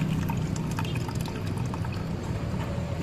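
Water trickles and pours steadily from the opened engine oil drain bolt of a flood-submerged Discover motorcycle with a seized engine, a continuous close splashing flow with no talk.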